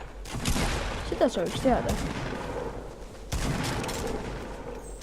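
Gunfire crackles in the video game Fortnite, rapid bursts of shots at middling distance under a player's speech.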